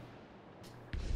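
A ship's cannon fires once in a naval battle in the video game Assassin's Creed Black Flag, a sudden low boom after quiet background noise, heavy and close.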